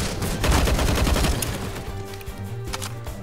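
Rapid bursts of gunfire in the video game CS:GO during a ranked match, a dense loud fusillade early on that thins into scattered shots and game effects toward the end.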